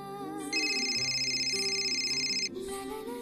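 A telephone rings indoors with a bright electronic tone that holds steady for about two seconds, then restarts after a brief break, close and clear with no talking.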